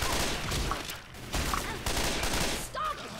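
Gunfire in the zombie shooter Left 4 Dead, coming in rapid bursts of repeated shots that break off briefly and start again, with a player talking faintly underneath.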